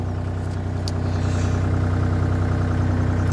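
Diesel engine of a Bobcat E35 compact trackhoe excavator runs steadily at throttle, a loud, close, even low rumble with a constant rhythmic pulse throughout.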